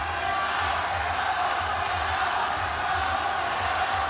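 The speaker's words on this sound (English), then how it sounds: "this crowd, which is very uncharacteristic in Japan, are cheering for both Hasegawa and Ong La Unsung" Crowd at a ONE Championship fight in Japan roars steadily as a dense, continuous wash of cheering and noise that fills the whole stretch without breaks.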